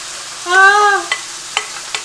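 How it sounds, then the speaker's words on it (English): Frying hisses steadily close by, broken by a brief squealing tone and a few sharp clicks and taps. "Ooh, it's sizzling."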